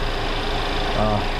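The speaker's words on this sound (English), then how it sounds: "Sorry for the engine noise. We got to have it running in order to be able to check the AC pressures and stuff" The 2.0 turbo engine of a 2014–2019 Mercedes CLA250 runs steadily with its air conditioning being checked, giving an even, unbroken mechanical drone close by.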